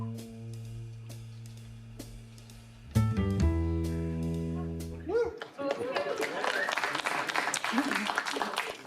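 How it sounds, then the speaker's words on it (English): Audience applause at a live Caribbean and tropical cocktail talk and demo; after a stretch of music ends, a dense burst of many hands clapping fills the last few seconds, loud and close. "they'll hear you clapping"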